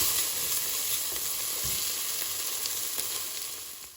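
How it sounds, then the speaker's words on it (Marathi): Tomatoes and green peas frying together in a pan for a cabbage dish, a steady close sizzle with faint stirring scrapes, continuous and unbroken throughout without any voices. "टोमाट आनी ग्रीन सांग घाल, जायते भशेन ग्रीन सांग घाल आनी बरें मिक्स कर आनी मातशें भाजून हाडया"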